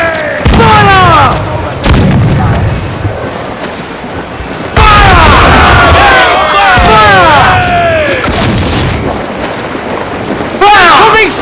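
Ship cannons boom repeatedly during a naval battle in Assassin's Creed Black Flag, loud heavy blasts over crashing waves, with crew shouting and cries rising amid the gunfire.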